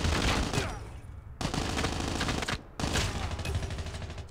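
An MSMC submachine gun in Call of Duty Mobile fires rapid, loud, close bursts, with two short pauses that split the sustained rattle into three runs.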